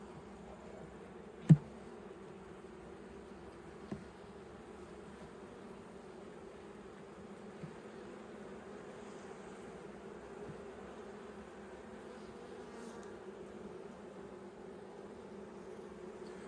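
Honey bees hum steadily around an open hive during a late-winter inspection in Australia, a continuous low drone throughout with a couple of sharp knocks early on and no talking.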